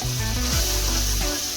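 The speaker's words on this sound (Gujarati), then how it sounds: "બાકરા વઘાર દીધા છે" Spices crackle and sizzle in hot oil while tempering for a village-style Gujarati dish, a close, steady frying hiss with some stirring scrapes, no talking.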